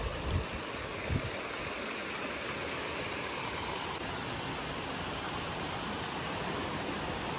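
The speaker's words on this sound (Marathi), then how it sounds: "पूर्ण जे पाणी झऱ्यात ते पाणी परत झऱ्यात निघून जात आहे." Spring water running steadily in a stream on a farm in Goa, a continuous broadband rush with a couple of brief low knocks near the start, close and alone with no talk.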